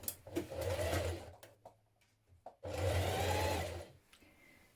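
A domestic sewing machine bastes a facing onto the back neckline of a 1970s-style Vogue wrap dress, running in two steady bursts split by a short quiet pause.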